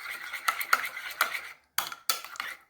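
A spoon stirring plain yogurt and mint chutney together in a small dish, with a series of light clinking taps and scrapes against the dish, close and fairly quiet, with a couple of brief pauses.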